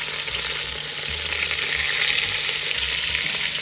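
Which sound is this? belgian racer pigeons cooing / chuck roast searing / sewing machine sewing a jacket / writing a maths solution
chuck roast searing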